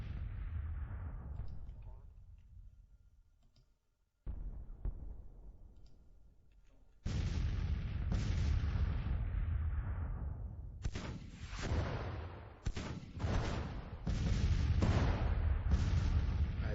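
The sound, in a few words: artillery bombarding guns in wooded terrain, Grand Tactician video game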